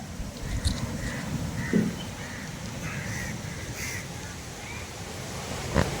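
Sea surf washing onto an eroding Kerala beach, a continuous windy roar of waves with several crows cawing clearly over it and a couple of brief knocks.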